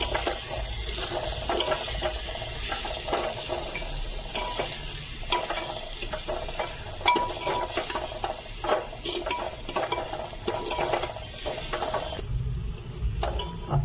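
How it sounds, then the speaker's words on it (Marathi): Turmeric and chili powder are stirred together in a pan while cooking a village-style prawn curry, with a steady sizzle and a scraping spoon throughout, close and continuous, without speech. "हळद पावडर, मिरची पावडर. आता आपण एकत्र मिक्स करून घेऊया."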